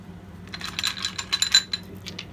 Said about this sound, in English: And then we'll throw some dice.